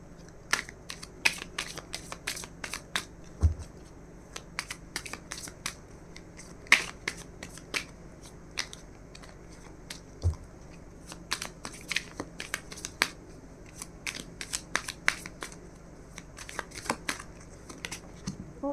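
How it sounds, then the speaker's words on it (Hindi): Tarot deck shuffled by hand, a long run of quick crisp card riffles and soft slaps, close and steady throughout with a faint hum beneath. "तो अभी हम शफल करते हैं दूसरे डेक से और देखते हैं फ्यूचर में क्या लिखा है।"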